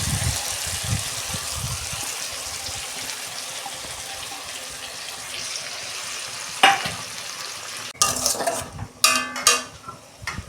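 Marinated fish is added to a hot pan and fries with a steady, crackling sizzle, followed by louder splashing bursts and clattering as the pan is handled near the end.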